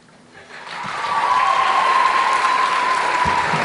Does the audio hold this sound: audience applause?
yes